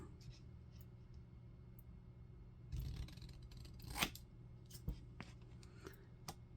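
Paper is trimmed with scissors while assembling a digital-kit folio, with a few crisp snips and short cuts standing out above a low background hum and soft handling noises.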